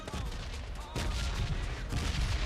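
Gunfire in the PUBG Mobile Lite battle game comes as dense, rapid bursts of close shots layered over one another, loud and continuous with a heavier volley about a second in.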